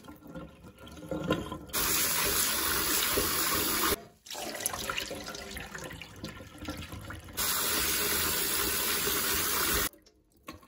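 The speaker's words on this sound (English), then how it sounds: "You do want to rinse them really well because the water starts out really murky like that" Yellow split peas rinsed under a running kitchen tap, a steady hiss of water into the sink that cuts on and off in bursts, loud and close.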